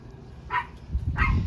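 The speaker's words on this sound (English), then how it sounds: "Oh, look at my dog." Dog barking twice in short, sharp woofs about half a second apart, fairly close, at an RV park garden with no talking.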